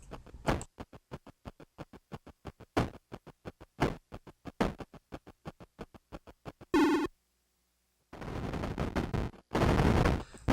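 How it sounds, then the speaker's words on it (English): Rapid electronic shots from the Atari computer game Pathfinder, a fast run of sharp, evenly spaced bursts, then a harsh explosion, a short silence and two loud noisy blasts. "I need to shoot it a whole bunch of times just to wear it down"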